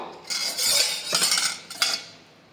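Thick ground rice batter is poured and scraped from a metal vessel into a bowl, with soft clinking and scraping strokes over about two seconds.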